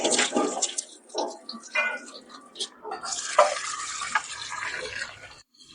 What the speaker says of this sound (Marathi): तिथपर्यंत मी तांदूळ धुते.